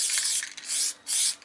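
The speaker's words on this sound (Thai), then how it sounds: "เราจะเริ่มพ่นกัน ใช้หน้าคนรีวิว มันก็สเปรย์ธรรมดาแต่ว่ามันสามารถลอกได้" A can of peelable spray paint hisses in short bursts, three loud, close sprays separated by brief gaps.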